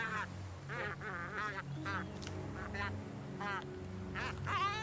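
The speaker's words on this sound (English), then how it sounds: "albatrosses spend a lot of their time making ritual displays to each other. It's mating season, and two males fight over a female." Albatrosses on the Galapagos call during mating-season ritual displays as males fight over a female, a series of loud, nasal honking and braying cries coming in bursts, some close and overlapping, with a voice talking over them.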